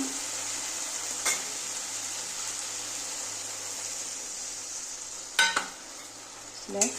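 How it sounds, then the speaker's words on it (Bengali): A spoon stirs spice paste frying in a pan for a small-fish and potato curry, a steady soft sizzle running throughout, punctuated by a few sharp scrapes and clinks of utensil against pan. "আবার একটু নেড়ে দেব।"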